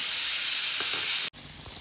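Pomfret pieces fry in a pan with a dense, loud, steady sizzle and spitting hiss, close up, briefly cut off for an instant before resuming.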